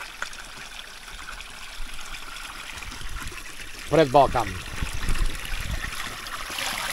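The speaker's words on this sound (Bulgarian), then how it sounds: "Това е обилно тече вода." Water pours steadily from two large, wide spouts of an old village fountain in the Balkan foothills, a continuous trickling rush running under brief nearby speech.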